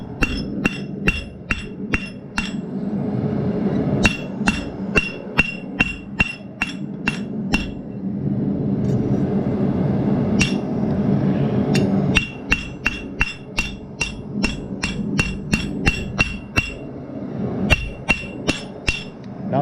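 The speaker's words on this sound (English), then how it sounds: "I'm gonna start setting this rivet." Hammer setting a rivet: sharp, ringing metallic strikes in quick rhythmic bursts, with short pauses between runs of blows, close and clear over a low background hum.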